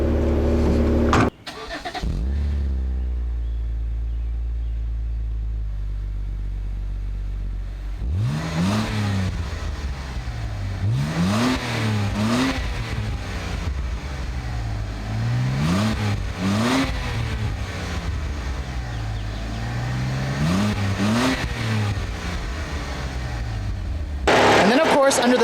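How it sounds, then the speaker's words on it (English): A 2012 BMW 128i's 3-liter naturally aspirated straight-six engine cranks and catches, settles into a steady idle, then revs up sharply several times in repeated surges, close and loud. "BMW's corporate 3-liter straight-six naturally aspirated engine"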